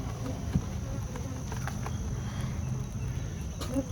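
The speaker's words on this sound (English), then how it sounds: "We have bees upstairs." Honeybees hum steadily inside an open hive during a hot day's inspection, a dense, close drone with faint clicks and shuffles over it.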